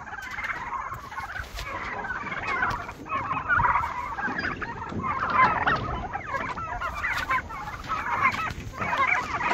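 A flock of chickens in a chicken tractor on a small homestead clucks and squawks steadily and fairly close, a dense overlapping chorus that continues throughout with no talking.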